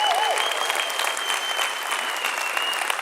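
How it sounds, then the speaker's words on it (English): A conference audience gives a sustained, even round of applause, a broad wash of many hands clapping from across a large hall, with a faint steady tone hanging behind it. "let's just give him another encouraging round of applause"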